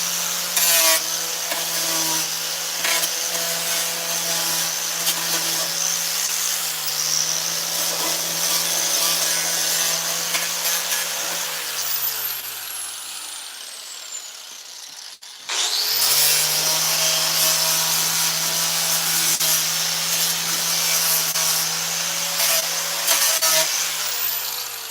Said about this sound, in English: I'm gonna need the finger sander